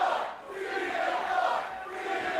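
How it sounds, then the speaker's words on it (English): A wrestling crowd cheers for Stephen Flo, a broad roar of many voices that swells and dips in waves without stopping. "you can hear the crowd right off the jump show their support for Stephen Flo"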